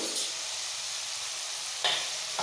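Slit green chillies fry in hot oil in a pan for a spicy prawn curry, giving a loud, steady, close sizzle with a brief stir near the end and no talking.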